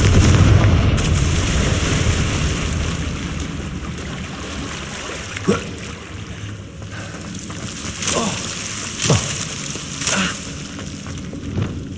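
Confringo fire spell explosions in the Hogwarts Legacy video game: several short, sharp bursts land a few seconds apart over a rumbling, rain-like ambient wash, moderately loud and close.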